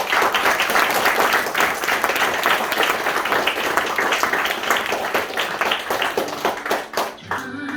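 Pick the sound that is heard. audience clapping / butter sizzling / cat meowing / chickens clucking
audience clapping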